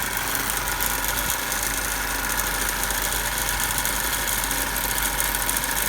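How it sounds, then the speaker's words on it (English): A DC motor in a speed-control lab runs at around 1640 RPM, giving a constant, dense mechanical hum and whine with steady vibration. No voices are heard. "The motor has drifted a bit."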